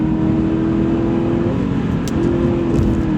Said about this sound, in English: we're just gonna dig out of 4th gear here, full throttle